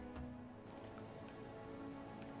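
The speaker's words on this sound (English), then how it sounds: "maybe she's sad because it's raining out and she doesn't want to work in this" Rain falls steadily in the medieval survival game Medieval Dynasty, a soft continuous patter with a few brighter droplet ticks, heard alone at low level.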